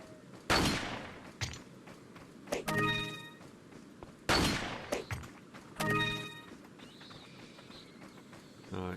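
Gunfire in the VR game Resident Evil 4 VR: two loud, sharp shot bursts a few seconds apart, each followed by a ringing metallic clatter, with quieter thumps between them.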